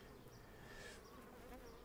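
Honey bees buzz at a hive feeder during beekeeping work. A dense, steady droning hum continues without break for the whole moment, with no talk.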